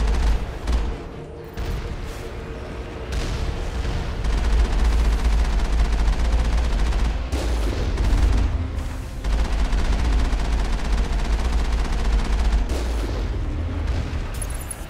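Automatic turret gunfire in the video game Mass Effect rattles in sustained bursts of rapid shots with heavy low booms, loud and nearly continuous with short gaps between volleys.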